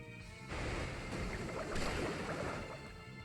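Water Pulse attack in Pokemon X, a steady rushing, surf-like wash of sound with a sudden swell partway through, holding at moderate loudness without pause.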